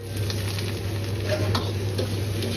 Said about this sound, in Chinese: 油热后先下入小料姜蒜